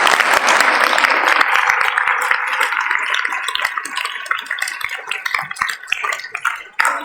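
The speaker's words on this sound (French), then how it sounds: "je tiens vraiment à les applaudir" An audience claps for the organizers at a final cinema screening night, a dense, bright round of applause that stays full, then thins with scattered sharp claps toward the end.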